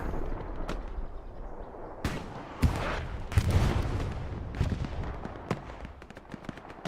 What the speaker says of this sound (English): Now EXO firing rockets back at the MERC light.